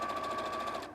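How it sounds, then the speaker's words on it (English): Sewing machine stitching a seam for a make-up bag or slippers: a rapid, steady mechanical whirring chatter running close and continuous, then slowing and stopping at the end. "lean to your sewing machine, and then hold it, your seam, and just keep going"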